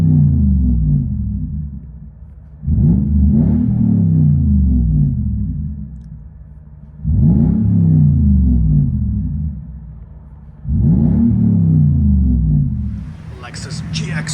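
Inside the cabin of a straight-piped 2004 Lexus GX 470 4.7L V8, three deep droning exhaust surges rise and fade in turn over a low rumble, loud and boomy, with a brief clatter at the end.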